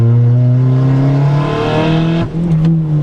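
A stock Honda Civic engine running on boost drones loud and close at steady revs, then abruptly stumbles and cuts out for a moment before picking back up with uneven, wavering pitch.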